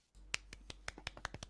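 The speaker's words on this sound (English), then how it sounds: "Slight golf clap for that one." Light golf clap at a casual podcast recording, a sparse handful of soft, crisp claps in quick succession, close and quiet.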